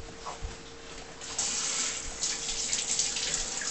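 Tap water runs steadily from a faucet as hands are washed at a sink, a continuous close hiss that swells louder partway through, with no talking.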